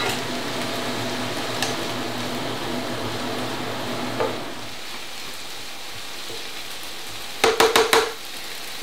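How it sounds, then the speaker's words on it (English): Diced courgette frying in a pan for risotto primavera, a constant soft crackling sizzle close by, joined by a few sharp taps and a quick burst of clattering utensil knocks near the end. "so that's sizzling nicely"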